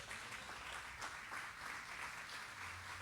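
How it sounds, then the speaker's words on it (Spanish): A church congregation applauds for the Lord, with steady sustained clapping throughout, dense and fairly even, no talk over it. "¿Quieres dar un aplauso al Señor por esa promesa?"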